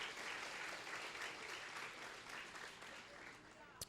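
A church congregation applauding at an Easter service, a dense, sustained wash of clapping from many hands, fairly distant and steady, with a faint voice underneath.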